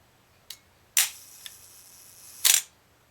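A Vivitar 250/SL film camera under repair, its shutter firing twice with sharp mechanical clacks, close and crisp, with small clicks from the mechanism in between.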